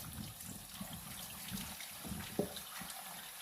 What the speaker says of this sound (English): what you want to do is you just want to rinse them all off